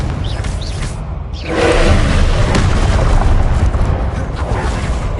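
A Confringo spell blasting in Hogwarts Legacy: a quieter start gives way to a loud, rolling explosive roar that swells in partway through and keeps rumbling at a steady level to the end, with no speech.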